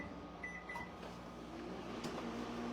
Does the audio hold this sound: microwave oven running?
yes